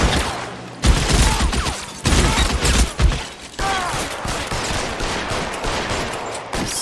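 Gunfire in the video game L.A. Noire, with loud bursts of rapid shots broken by brief pauses and several volleys fired in quick succession, with no talking over it.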